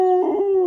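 White dog giving a single short, clear howl close by, a steady tonal wail under a second in length with no other sounds around it.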